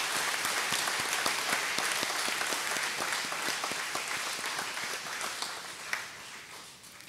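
A congregation at a trilingual Easter Vigil Mass applauds, a broad, fairly distant patter of many hands with some distinct claps, gradually fading near the end.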